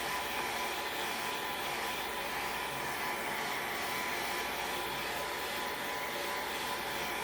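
A hair dryer blows a steady, even whoosh of air over freshly applied craft lettering, continuous and unchanging throughout at a moderate, fairly quiet level.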